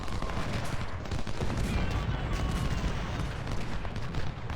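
Dense musket volley fire during an uphill assault in the Ultimate General: Civil War video game, a continuous rolling crackle of gunshots and booms that fills the whole clip, loud and close.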